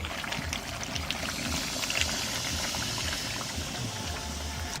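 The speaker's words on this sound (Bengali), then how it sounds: "এখানে গরম জল দিয়ে দেবো।" Hot water poured into a pan of duck curry cooking with potato, a continuous sizzling, bubbling wash of liquid with a low burbling pulse underneath, close and steady.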